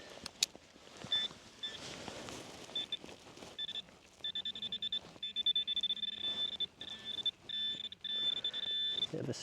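A Minelab metal detector sweeping a quiet Norfolk field gives repeated high, steady electronic tones in short bursts, with a faint hum underneath and some handling noise early on.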